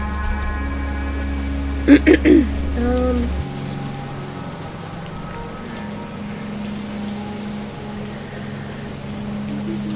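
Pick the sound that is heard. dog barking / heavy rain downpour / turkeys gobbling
heavy rain downpour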